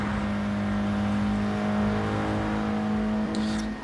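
Race car engine in a sim racing game, WTCC touring car at Suzuka, a steady loud sustained drone with a strong constant tone throughout, no talking.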